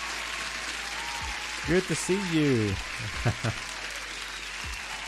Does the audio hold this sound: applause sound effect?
yes